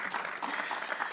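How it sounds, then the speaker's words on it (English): A university lecture audience claps briefly, a soft, even patter of many hands at a distance that lasts only about a second. "I'll give space for that round of applause."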